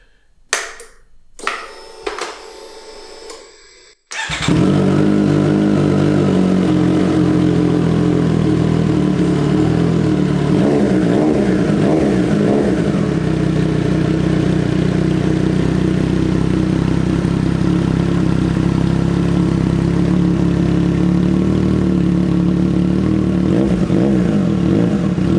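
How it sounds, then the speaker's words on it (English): A 2021 Triumph Street Triple RS fitted with a Racefit exhaust starts after a few quiet clicks, then holds a loud, close, steady engine note for about twenty seconds with some revving. "here's the first start of the new exhaust system installed"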